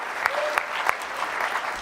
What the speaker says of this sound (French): Est-ce qu'on peut donner une main d'applaudissement pour les musiciens qui ont été là